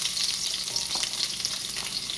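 Onions and garlic sizzle in hot oil in a pot, a steady bright hiss close by with faint stirring scrapes and no voices.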